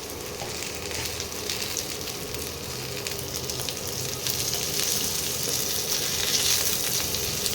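Cardamom, cinnamon, cloves and onion frying in oil make a continuous bright sizzle that swells gradually louder, with occasional stirring scrapes mixed in and no talking.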